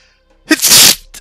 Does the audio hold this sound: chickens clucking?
no